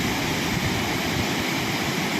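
A swollen, flooded river in the Konkan hills rushes hard over rocks, making a loud, dense, continuous roar of churning water that fills the scene with no pauses or voices.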